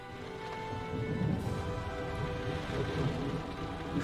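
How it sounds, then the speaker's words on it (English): Steady rain pours down continuously, a dense hiss of drops on surfaces with low rumbling underneath. "It's raining right on top of you, I can see it"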